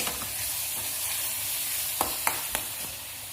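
Chili powder is stirred into a sizzling pan while cooking mushroom curry, a continuous close frying hiss with a few soft scrapes of the spoon, no voices.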